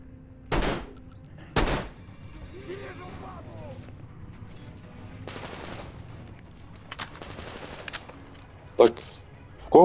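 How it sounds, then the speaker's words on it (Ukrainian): A few sharp gunshot bursts from the video game Metro Exodus ring out intermittently amid quieter background, with a person speaking between the shots. "От я чую вистріли."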